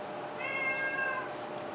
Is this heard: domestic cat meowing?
yes